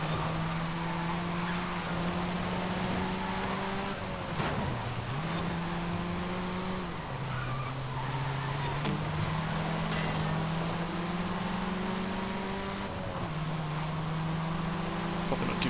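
An Abarth 124 Spider races in B Class in the video game Forza Horizon 5, its engine droning steadily and loudly while the pitch climbs through the gears and drops sharply at each shift.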